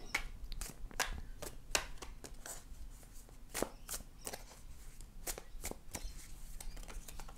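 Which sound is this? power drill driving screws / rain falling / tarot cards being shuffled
tarot cards being shuffled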